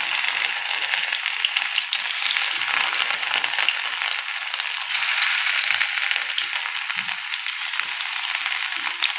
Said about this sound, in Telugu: ఆయిల్ హీట్ అయిందండి. ఇప్పుడు ఈ క్యాలీఫ్లవర్ పీసెస్ ఒక్కొక్కటి వేసుకోవాలి.